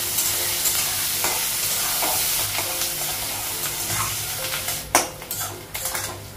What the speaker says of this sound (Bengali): আলুর পেঁয়াজটা ভাজা হয়ে গেছে